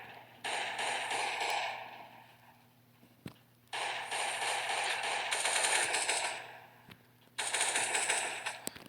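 AK-47 fire in the Last Day on Earth video game: three long bursts of rapid automatic shots, each lasting one to two seconds with short gaps between, loud and close, with no speech over them.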